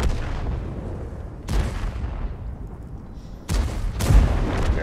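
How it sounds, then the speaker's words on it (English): Heavy gunfire booms from pillbox guns in the war game Order of War, with three or four loud deep blasts, each followed by a long rumbling decay. "And there's your pillbox fire as well."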